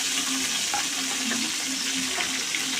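Curry leaves hit hot oil with frying ginger, onion and green chilli, giving a close, continuous crackling sizzle with faint spatters and a low hum underneath throughout, no talking.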